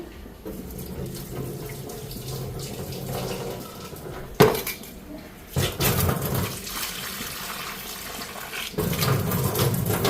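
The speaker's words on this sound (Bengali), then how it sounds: "তো এইদিকে শুটকিটা সিদ্ধ করে নিচ্ছি, তেমন একটু ভালো করে ধুয়ে নিই।" Boiled dried fish is washed in a kitchen sink under running tap water: continuous splashing and trickling, with a sharp clatter midway and louder gushes of water after, with no talk.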